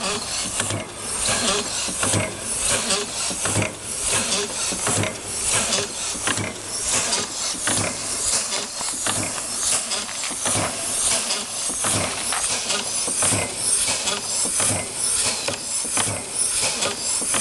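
A small vertical steam engine with boiler runs steadily, its rhythmic mechanical clanking and ticking repeating about twice a second over a constant background hiss of steam, close and fairly loud.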